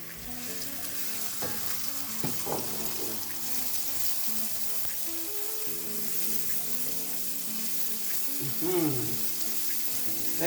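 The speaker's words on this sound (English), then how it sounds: "Fry this a bit to infuse the oil" Onion and minced garlic frying in oil, a steady close sizzle with occasional stirring scrapes and a brief clatter near the end; no talk.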